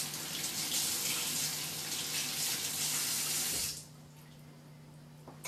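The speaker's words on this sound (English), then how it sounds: "And just rinse off our hands." A kitchen tap runs while hands are rinsed beneath it, a steady close splash and rush of water that stops abruptly near the end, leaving a low hum.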